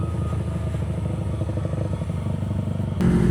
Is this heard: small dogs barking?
no